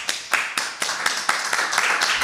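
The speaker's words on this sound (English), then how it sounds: "With a round of applause, let's continue for founder number 1." An audience at a live startup pitch event gives a round of applause, with sharp distinct claps near the front over a rapid, fairly loud patter that builds briefly.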